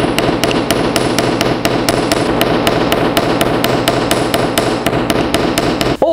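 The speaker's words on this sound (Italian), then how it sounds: "Non martelliamo verso l'alto, ma solo la curvatura" Rapid, steady metallic hammer taps on a metal bracelet ring out close and loud, striking in an even rhythm for several seconds before stopping abruptly.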